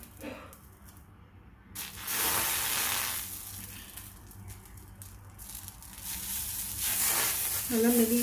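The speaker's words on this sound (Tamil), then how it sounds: "இப்போ நம்ம தோசை ஊற்றலாம்." Dosa batter hits a hot tawa with a soft hiss that swells into a steady, broad sizzle as more batter spreads, and a brief voice comes in at the very end.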